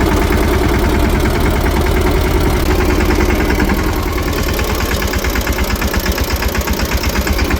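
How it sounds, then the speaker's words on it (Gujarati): A farm tractor's diesel engine idling close by, a loud steady low rumble with a rapid knocking pulse that grows more pronounced toward the end, no voices. "હા લઈ જઈએ વાડીએ ટ્રેક્ટરને"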